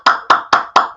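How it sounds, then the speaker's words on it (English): Five sharp, loud hand claps in an even, quick rhythm, close up with no talking between them. "I'm clapping for Don."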